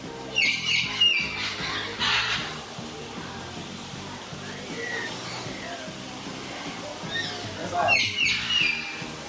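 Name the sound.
parrots squawking at a bird park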